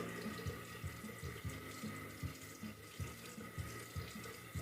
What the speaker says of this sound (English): I'm gonna get some warm water, warm or cool, wet my face,